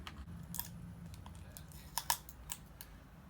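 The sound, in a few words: keys scraping off plastic film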